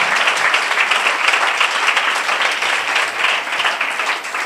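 A church congregation claps and applauds in a dense, steady wash of sound that stays loud and even throughout the short burst.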